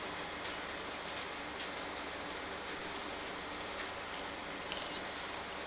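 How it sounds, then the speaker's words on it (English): Light rain falling outdoors on a stormy morning in Cobram, Australia, drops pattering faintly on bins as a soft, steady hiss with occasional slightly sharper ticks. "I can hear them falling under my bins."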